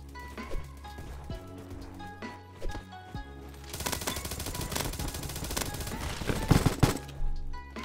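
FAMAS rifle fire in the Roblox shooter Bad Business, a sparse few taps early, then a dense rapid burst of gunfire building louder through the middle and end.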